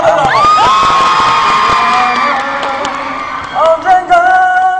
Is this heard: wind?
no